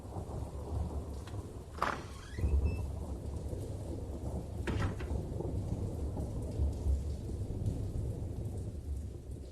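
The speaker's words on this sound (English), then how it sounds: "It was raining when we left the house." Steady rain falling through a thunderstorm, with a sharp nearby thunder crack early and a second rumble later over the constant hiss of rainfall.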